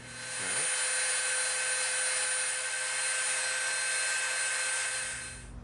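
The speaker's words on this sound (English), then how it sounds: "now let's take our Dremel." Dremel rotary tool with a smoothing bit rounding off the edges of EVA foam, a steady high-pitched motor whine running continuously with a faint grinding texture, close and alone.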